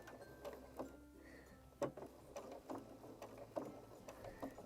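Sewing machine stitching a lapped zip on fabric, a quiet, close mechanical whir with irregular ticks and clunks of the mechanism, no voices.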